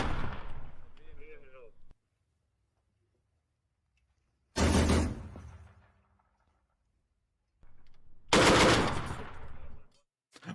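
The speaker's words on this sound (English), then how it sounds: "We can see them firing an artillery piece, and now it looks like they're going to start firing a grenade launcher as well." Artillery piece and grenade launcher firing in combat footage from the war in Ukraine: three heavy, booming reports spaced several seconds apart, each with a long rumbling decay into silence.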